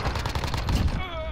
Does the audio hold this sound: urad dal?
no